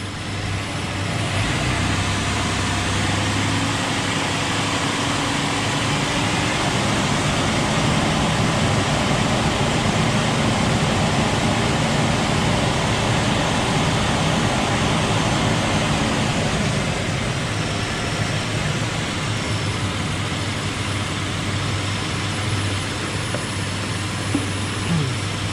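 A 2003 Ford Explorer engine runs steadily with its air conditioning on, a loud continuous broadband roar with a low hum that eases slightly after about seventeen seconds, close and alone.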